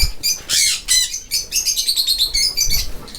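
Parrots and cockatiels in an aviary call and chirp in bursts of shrill, overlapping squawks and tweets, close and lively, with some wing flutter and no talk.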